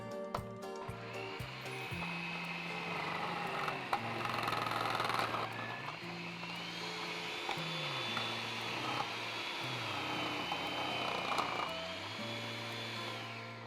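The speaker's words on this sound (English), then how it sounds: "let's get our food processor blade on. It's attached with a grater blade" A food processor fitted with a grater blade shreds vegetables, its motor whirring steadily and fairly quietly while the pitch shifts and grinds as pieces feed through the blade.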